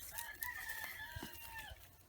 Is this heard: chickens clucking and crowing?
yes